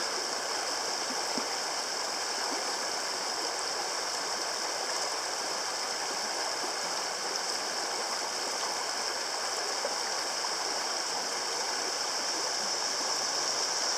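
River water rushing over shallow shoals around a John boat makes a steady broadband babbling hiss, even and continuous at moderate distance, with no voices.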